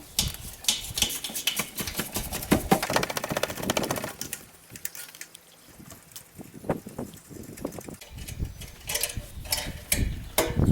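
A flexible-head ratchet wrench loosens a clamp on a Ford F250 6.0 Powerstroke during turbo removal, rapid clicking bursts close by with a short pause midway before the ratcheting resumes.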